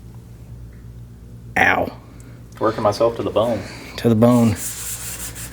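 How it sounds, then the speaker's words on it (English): Clutch discs from a Honda Dream motorcycle being hand-sanded, with short rasping strokes mixed in among a man's nearby speech. "Sanding clutch discs."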